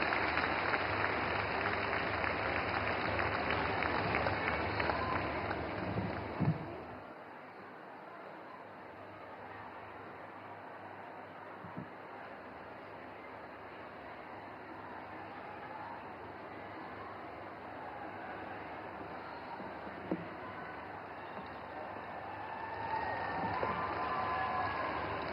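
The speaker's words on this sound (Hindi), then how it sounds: "तालियों से स्वागत करें माननीय मंत्री महोदया का" An indoor audience claps and cheers through the first six seconds to welcome the minister at a public event in Panipat, Haryana, then settles into a quiet hall with faint scattered sounds.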